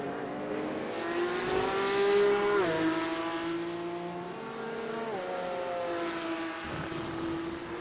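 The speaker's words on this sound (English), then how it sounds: "Those cars sound awesome, man. Those flat sixes with, what, like almost 600 horsepower?" Porsche Cup race cars with flat-six engines of roughly 500 to 600 horsepower drone steadily at race pace, their harmonic whine shifting with gear changes and overlapping engines over about eight seconds, loud and continuous with no talk.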